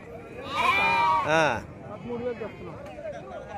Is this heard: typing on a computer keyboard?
no